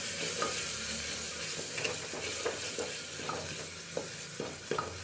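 Masala spice paste sizzles and fries in hot oil in a pan for kala chana curry. It gives a steady crackling hiss with brief scraping stirs throughout, fairly close and moderate in volume, with no voices.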